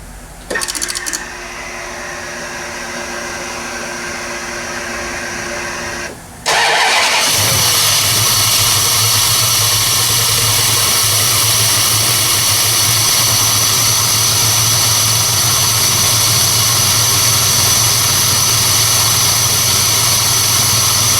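A Plymouth Barracuda running ACES EFI fires up for the first time, cranking briefly before catching into a loud, steady, rough-running idle that continues on its own.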